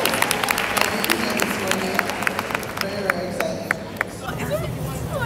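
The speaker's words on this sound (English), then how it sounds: "let's start by giving everyone a big clap" At a tech community event, a crowd claps in scattered bursts over a background of chatter and voices, with sharp individual claps standing out before the applause thins near the end.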